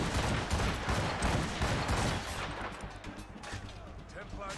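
Gunfire from a Puckle gun sounds in a dense, loud burst of rapid shots and reports that thins a little toward the end.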